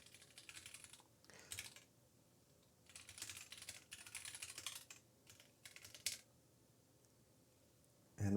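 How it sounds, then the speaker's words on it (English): Fingers tap on a computer keyboard in short close bursts of rapid keystrokes, separated by quiet pauses, at low volume. "I can't type anymore"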